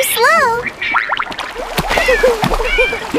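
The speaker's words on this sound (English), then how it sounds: "Boing, boing, boing!" Cartoon boing effects spring up in quick wobbling bursts, mixed with splashy effects and lively animated character voices chattering over them.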